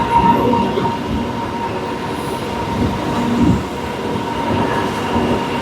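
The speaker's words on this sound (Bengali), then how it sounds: "থেকে 58 কিলোমিটার জার্নি কমপ্লিট করে আমাদের ট্রেন এখন এসে পৌঁছেছে মেচেদা স্টেশনে" A Howrah to Digha local train runs along the tracks, a steady loud rumble of wheels and carriages with faint clatter throughout, no voices.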